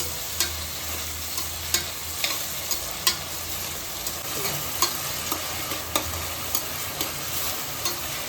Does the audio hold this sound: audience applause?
no